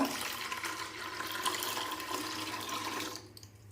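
Steady rushing water pours continuously into a bucket, close and hollow-sounding, then stops abruptly near the end.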